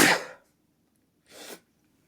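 Two breathy human sneezes or sneeze-like bursts, a strong one at the start and a softer one about a second later, close and with no talk around them.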